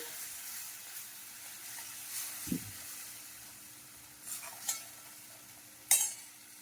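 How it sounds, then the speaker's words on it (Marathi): A spice paste quietly sizzles in a pan while a spatula stirs, with occasional scrapes and a sharp metallic clink near the end. "मसाला चांगला परतून घेऊया"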